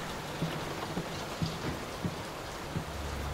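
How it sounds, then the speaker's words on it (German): Steady rain falls in the horror video game Layers of Fear (2023), a constant close hiss with faint low thumps recurring every half second or so. "Will this storm ever run out of rain?"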